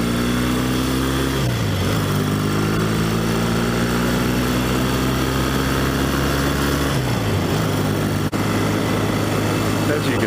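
A 1964 Royal Enfield Interceptor Mk1 motorcycle engine drones steadily while riding, its pitch dropping in steps as gears or throttle change, loud and continuous with wind noise throughout.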